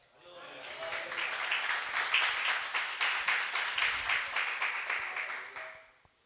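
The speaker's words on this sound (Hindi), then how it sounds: "जोरदार प्रभु यीशु की महिमा के लिए ताली बजा दें।" A church congregation at a Hindi Pentecostal service in Manchester claps hands, with rhythmic beats in a fairly steady pulse, building in and fading out near the end.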